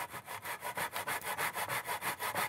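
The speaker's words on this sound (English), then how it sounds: "this is an inexpensive miter box from the hardware store, inexpensive saw" An inexpensive hand saw cuts wood in a cheap hardware-store miter box, with quick, even back-and-forth rasping strokes, about five per second, close and fairly quiet, with no talking.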